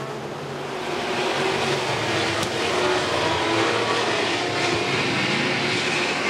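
Super stock race cars roar around Crossville Speedway under green flag racing, a loud continuous engine drone swelling as the pack passes, with no one talking.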